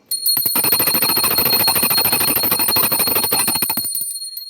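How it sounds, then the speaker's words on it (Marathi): A small handheld prayer bell rings rapidly and continuously during a home evening worship, a bright, insistent jingle close up that runs for several seconds before stopping abruptly. "घंटी वाजवून घेऊयात"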